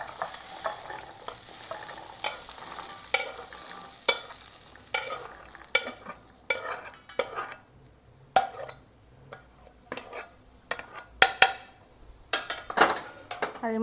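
A mixture poured into a wok, then frying and sizzling with repeated stirring and scraping clatter, close and fairly loud with irregular metallic knocks throughout.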